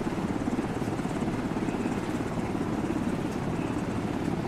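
A military transport helicopter flies in Arma 3, its rotors producing a steady, loud, pulsing drone that continues without a break.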